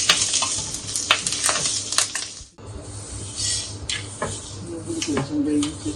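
Tempering frying in a pan for drumstick leaf chutney, a steady close sizzle with crackles and occasional stirring scrapes, briefly interrupted midway, with faint speech at times.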